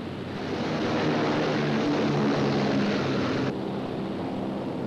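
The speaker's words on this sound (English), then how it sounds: "Royal Air Force planes loaded with high explosive and incendiary bombs took off for" Royal Air Force propeller bombers loaded with high explosive and incendiary bombs take off for Hamburg in 1943, heard as a loud, steady roar of droning aircraft engines that swells and then drops away abruptly near the end.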